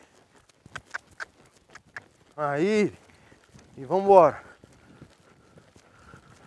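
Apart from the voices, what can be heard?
horse galloping hooves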